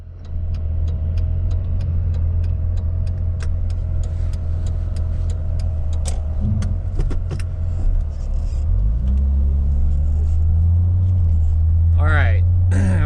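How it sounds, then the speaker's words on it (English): A BMW E30 fitted with strut braces drives on the road, its steady engine and road rumble heard from inside the cabin, with small ticking noises and a rise in pitch near the end. Someone talks over it. "we're out for our first drive since installing those"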